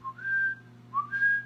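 A person whistles two short rising, birdlike phrases with a pause between them, imitating birdsong, over a low steady hum.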